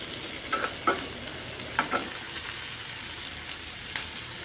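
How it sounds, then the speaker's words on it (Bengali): Peas, cabbage and carrots fry in a pan with a steady close sizzle, punctuated by a few brief stirring scrapes early on before the hiss settles evenly. "এরপরে মটরশুঁটি, বাঁধাকপি, গাজর এগুলো সব দিয়ে দিচ্ছি। এটা ভেজে নিব।"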